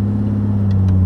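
Jaguar E-Type Roadster engine idling steadily up close, a smooth low rumble held at constant pitch throughout with no talk.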